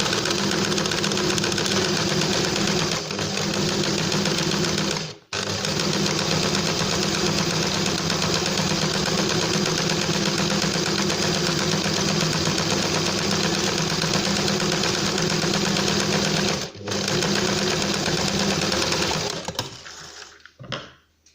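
A sewing machine runs steadily while sewing fabric pieces together, a continuous close mechanical whir with two brief stops before it winds down at the end.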